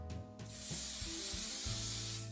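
An aerosol spray hisses onto a model tree for an OO9 narrow gauge railway layout, one sustained bright hiss after a short pause, heard near and alone over a faint low hum.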